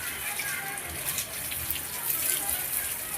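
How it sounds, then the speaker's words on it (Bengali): Water splashes and gushes steadily while a buffalo is washed down on a village dairy farm in Bengal, a continuous broadband wash of sound close by and fairly loud, with no talk. "এই দেখো মোষে গা ধুয়ে দিচ্ছি।"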